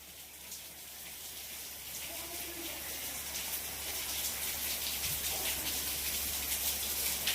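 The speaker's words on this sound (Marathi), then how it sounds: "अवघड झालंय, पाऊस उघडा ना बाहेर अजिबात" Heavy rain falling outside, a steady dense hiss that swells slightly louder over several seconds, with no voices.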